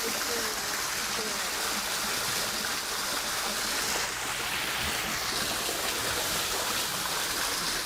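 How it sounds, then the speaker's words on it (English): Steady running water from a garden water feature, a continuous broadband rush like a small stream or fountain, even and close with no breaks. "you're listening to just the water running"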